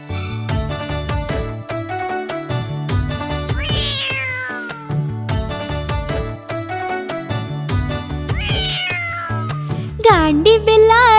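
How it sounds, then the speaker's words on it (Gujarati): An animated kitten gives several high, rising meows over a bright, bouncy cartoon music track. The meows come at intervals, and a final louder cry closes the sequence. "અરે જુઓ બિલાડી. નાનકી બિલાડી છે."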